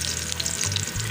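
Onion frying in a pan for a sabz tori (ridge gourd) sabzi, a steady loud sizzle with no voices over it.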